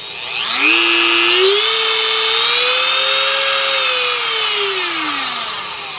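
A new Dremel 4300 rotary tool spins up to a high, whining pitch, holds the steady noisy tone close by for several seconds, then winds down, with no talking.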